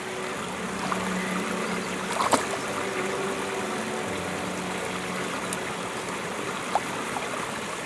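Water flows in a stream beneath a tree, a continuous close trickling and rushing that holds steady throughout, with a few faint clicks and knocks over it and no speech.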